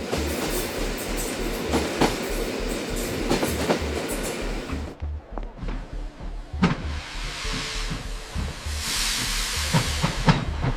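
A train on the narrow Kalka-Shimla hill railway, built in 1898, rumbles along with a steady rhythmic clatter of wheels. A hissing rush builds and fades over the low, repeating beat.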